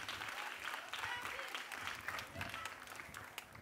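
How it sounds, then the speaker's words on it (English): Children clapping for themselves at a kids' talent show celebration, a steady, fairly faint patter of applause running throughout with voices mixed in underneath. "Kids, you should clap for yourself."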